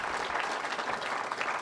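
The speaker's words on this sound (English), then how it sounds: "So I'd like to give them a round of applause." Dinner audience at a Pennsylvania hall of fame event applauding, a steady wash of many hands clapping at moderate distance throughout the short stretch.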